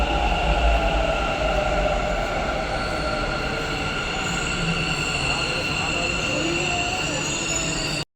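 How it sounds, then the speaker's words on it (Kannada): A metro train pulls into a station with a long, steady rumble and high metallic wheel squeal, loud and close throughout. "ಬಂತು ಗಾಯ್ಸ್ ಮೆಟ್ರೋ. ಇವಾಗ ಹತ್ತದೊಂದೇ."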